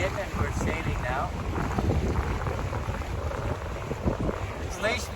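A sailboat under way in steady wind, with continuous broadband wind rush and water noise filling the whole stretch, close and fairly loud, with faint voices in the background.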